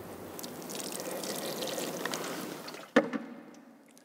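Water poured into a bowl, a soft continuous trickling like rain that ends with a sharp splash and a few drips before fading out.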